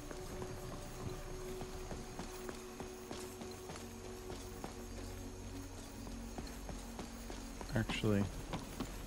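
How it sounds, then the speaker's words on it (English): A horse trots in Skyrim with a regular, soft clip-clop of hooves, fairly quiet and steady throughout, and a voice briefly speaks over it. "I'm gonna go steal that horse"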